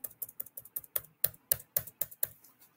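Keys on a computer keyboard struck in a quick run of about a dozen crisp, close clicks, ending in a final press of the enter key, with no talk.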